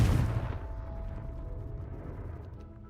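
Confringo fire spell cast in Hogwarts Legacy, a sharp booming blast up front that decays into a low rumbling tail, no voices.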